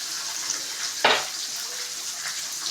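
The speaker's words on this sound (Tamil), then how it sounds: "வெங்காயத்தை நல்லா வதக்கிக்கோங்க" Onions sautéing in a pan for vendhayam kuzhambu, a steady faint sizzle with one sharp stirring knock about a second in.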